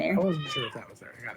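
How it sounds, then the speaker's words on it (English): A phone plays a short, clear cat meow, up close, right as voices start talking over it. "Don't you have enough problems with things meowing off screen?"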